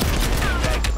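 Dense gunfire from Black Ops Cold War in a 3v3 match, a continuous loud burst of rapid shots over a short stretch, with faint talk underneath.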